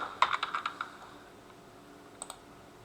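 Keys clatter in a quick burst of about six presses on a computer keyboard, then two more clicks after a pause, crisp and close with no talk.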